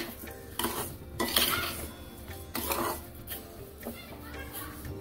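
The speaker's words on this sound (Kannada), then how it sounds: "ಸೊ ಸಕ್ಕರೆಯನ್ನು ಹಾಕಿ ಆದ ಮೇಲೆ ಸ್ಲೋ ಆ್ಯಂಡ್ ಸ್ಟಡಿಯಾಗಿ ಮಿಕ್ಸ್ ಮಾಡ್ತಾ ಹೋಗಿ" A spoon clinks and scrapes against a pan as sugar is stirred slowly into kesari bath, a semolina sheera sweet, in uneven knocks and rattles under a speaking voice.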